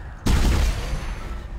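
A pulse rifle in the sci-fi horror game Dead Space fires one sharp, loud burst that decays into a short ringing tail.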